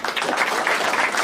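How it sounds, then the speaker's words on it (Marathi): A stand-up comedy crowd claps loudly for a special guest, dense continuous applause in a short burst with no voices. "एकदा जोरदार टाळ्या वाजवा"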